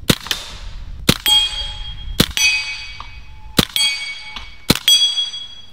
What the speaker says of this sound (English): Let's take on that dueling tree and see if it spins those plates around.